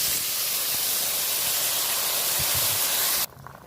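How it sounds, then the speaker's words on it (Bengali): Fish curry boiling hard in a pan just after water is added, a loud, steady, dense hiss that runs unbroken for about three seconds and then cuts off abruptly. "তরকারি ফুটে গেছে"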